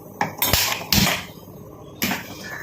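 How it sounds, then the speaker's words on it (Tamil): A metal pot set down onto a gas stove burner, heard as a few sharp clanks and clatters of metal against the grate, close and fairly loud, with no talking. "இப்போ இந்த அடுப்பில் நம்ம வச்சிடலாம்."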